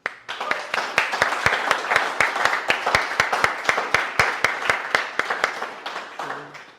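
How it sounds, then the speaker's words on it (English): A speaking-club meeting audience claps for its role takers and table topic speakers. Sharp, evenly spaced claps come from a small group for several seconds before fading out. "So let's hear a loud cheer to all the role takers, all the table topic speakers"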